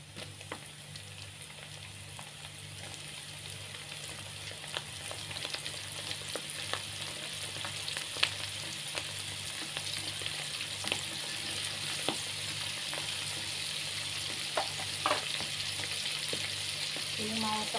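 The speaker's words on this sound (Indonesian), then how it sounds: "Selanjutnya saya mau goreng jamurnya" Mushrooms fry in a hot pan for a mushroom and potato rendang, giving a steady, close sizzle that crackles continuously for the whole stretch, with occasional sharper pops and no talking.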